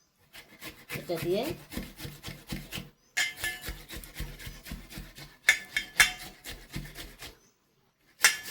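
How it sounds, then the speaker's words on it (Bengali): An onion being grated by hand, a quick run of rhythmic rasping strokes with short pauses between bursts, close and clear, with a few words spoken. "এবার আমি পেঁয়াজটা এই যে ঘষে নিচ্ছি।"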